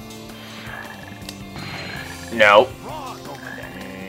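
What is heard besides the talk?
frog croaking in the video game Sonic Heroes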